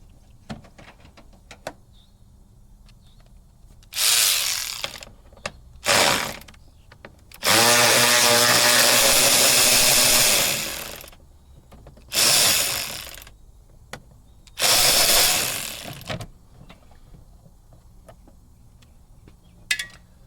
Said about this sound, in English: Undo your 10 millimeter bolts.